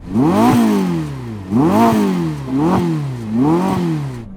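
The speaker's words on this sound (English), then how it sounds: "rev up the Ferrari." A Ferrari SF90 engine is revved four times in quick succession. Each blip rises and falls sharply, loud and close, with brief pauses between them.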